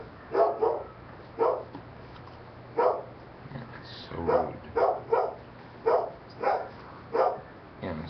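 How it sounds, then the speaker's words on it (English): A dog barks in short single and double woofs at a steady, unhurried pace, fairly close, with quiet gaps between barks. "Sorry about that dog noise in the background."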